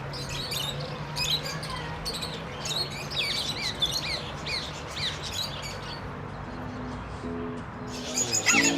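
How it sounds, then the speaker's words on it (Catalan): A parrot calls outdoors among other birds, giving repeated chirps and squawks at a moderate distance over steady background noise, and a few louder calls come close toward the end. "És un lloro d'aquest?"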